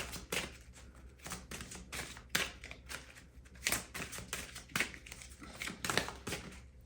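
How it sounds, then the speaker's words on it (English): A deck of oracle cards is shuffled and picked by hand, giving close, soft papery riffles and flicks in uneven bursts with no voice. "Okay, let's pick some oracle cards here."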